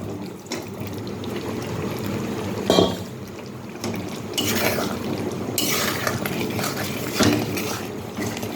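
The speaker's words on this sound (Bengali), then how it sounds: "আলুগুলোকে দিয়ে দিচ্ছি।" Fried potatoes go into a simmering Kashmiri alur dom gravy in a pan: wet splashes and stirring over a bubbling, close background, with a few louder plops.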